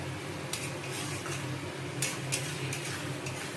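Spicy meat being stir-fried in a pan for a kosha curry: steady scraping and stirring against the metal, with a faint sizzle beneath and a few louder clinks, close and without talk.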